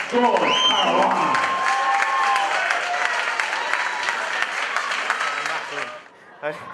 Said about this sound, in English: please make some noise for your runner-up, George Caruna